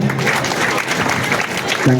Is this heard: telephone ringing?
no